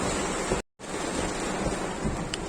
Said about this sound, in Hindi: बहुत जोर की बारिश हो रही है, वाइपर फुल स्पीड पे चल रहा है